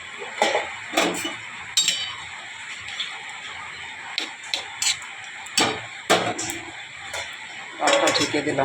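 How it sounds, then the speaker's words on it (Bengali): A lid set onto a pot of lentil dal with pumpkin shoots in a home kitchen, giving sharp metallic clinks and taps scattered across several seconds, close and clear, while someone speaks. "ডালটা ঢেকে দিলাম।"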